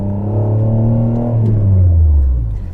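An Alfa Romeo 164 V6 Cloverleaf engine drones loudly from inside the car while driving, with a strong harmonic note that holds and then sags as revs drop near the end. No one speaks.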